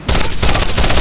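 A loud, rapid burst of automatic gunfire, shots rattling in quick succession at close range, in the video game Code of Honor 2: Conspiracy Island.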